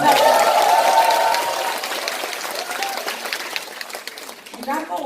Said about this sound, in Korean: 박수 한번 더 주시고.